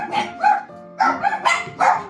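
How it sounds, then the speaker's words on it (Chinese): A rescue dog abandoned in the snow barks close and loud, giving about six sharp yaps in two quick bursts with a short pause between them and no talk. "看这个狗狗天生"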